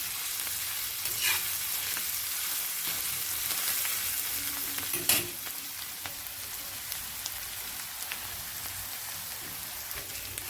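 Onions frying until golden for thecha, a dense rain-like sizzle holding steady throughout with occasional light stirring scrapes and one sharp clank near the middle.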